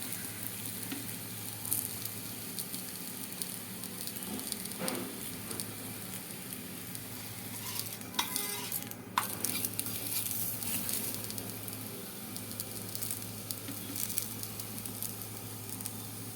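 Rice flour appalu fry in a pan on a low flame, giving a soft continuous sizzle and light pattering crackle at a low, even level for the whole stretch. Nobody speaks.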